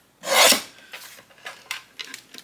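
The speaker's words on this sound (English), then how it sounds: "I'm going to trim 1/8 of an inch, both top and bottom" Cardstock being trimmed for a handmade card: one loud, close slicing swipe of a paper trimmer, followed by several fainter scraping and rustling sounds.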